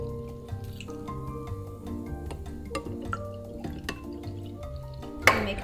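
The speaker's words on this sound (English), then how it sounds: "Some coconut milk. Okay, this one's tricky. So I'm gonna pour this one in something that I can," Coconut milk poured into a container in a home kitchen while cooking vegan food, a thin trickling, dripping flow under soft background music, ending in a brief louder splash.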